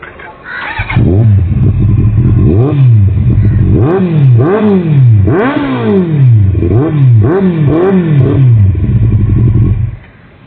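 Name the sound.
motorcycle exhaust revving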